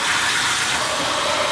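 Steady rush of water pouring from a tap into a boat's sink, close and fairly loud, continuous with no voices.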